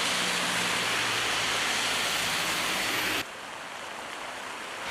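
Muddy floodwater mixed with hillside debris rushes down a street in heavy rain, a loud steady broadband wash of flowing water that drops sharply in level partway through and continues more quietly.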